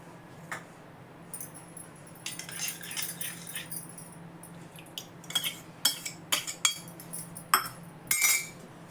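A spoon clinks against a new clay pot while curd starter is added, a series of light scattered clinks and taps that grow more frequent toward the end, heard close and without talk.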